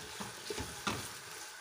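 Meat and onions sautéing in a pot for a meat and bean stew, with a few soft stirring scrapes and a low sizzle, brief and moderately quiet, with no voices.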